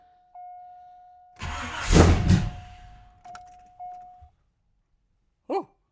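Small-block Chevy V8 from an engine swap cranking over with a loud burst of engine noise lasting about two seconds, followed by a steady warning chime, a couple of clunks, and one short final rev or bark.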